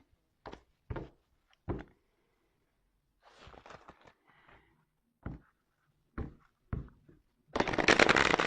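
Tarot cards being handled and shuffled: a few sharp, separate slaps and flicks of the deck, then a dense, steady riffling rush at the end, close and fairly loud with no talking.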